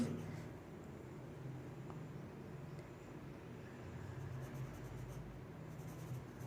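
Chalk or marker writing on a board during a biology lesson, soft faint strokes against a steady low background hum, with no clear speech.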